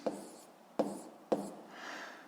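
Math being written by hand, three separate pen-on-paper stroke bursts, close and fairly quiet, followed by a softer scratching stroke.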